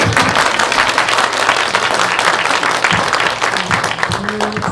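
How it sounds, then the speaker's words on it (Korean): Audience clapping at a packed film screening in Seongnam, a loud, continuous rattle of many hands, with a voice speaking over the applause in places. "박수 좀 쳐주시겠어요?"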